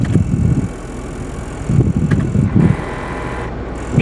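The blower motor fan in a Hyundai Santa Fe, newly fitted with a replacement resistor, runs with a steady airy whoosh that swells and eases a few times over a few seconds. No one speaks.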